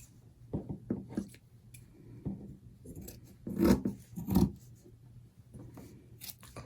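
Fabric being trimmed close to the edge with scissors while sewing a zippered pouch: a few soft, close rasping snips and rubs, two slightly louder cuts in the middle, over a quiet room hum.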